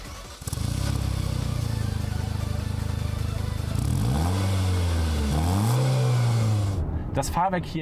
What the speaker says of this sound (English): The Nismo has its own special exhaust system that produces a sporty rumble.